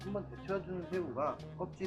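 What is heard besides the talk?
No everyday noise stands out behind the speech.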